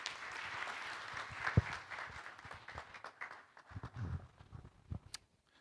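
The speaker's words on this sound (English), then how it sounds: "A big round of applause for the team here." Audience applause following a budget analysis panel in Zambia, a moderate wash of clapping that swells, thins out and fades with a few scattered claps near the end.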